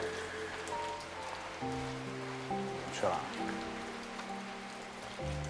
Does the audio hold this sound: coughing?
no